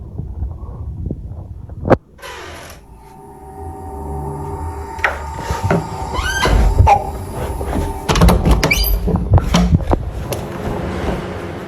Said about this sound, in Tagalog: Makikita mo na 2 beses hinatak ang pinto